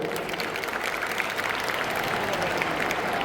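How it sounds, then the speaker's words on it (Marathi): A seated audience at a literary panel on saint literature and children's values applauds together, a dense, fairly soft wash of many hands clapping continuously at a moderate distance, with no talk over it. "आपण एकदा जोरात त्याच्याकडे टाळ्या वाजवूया."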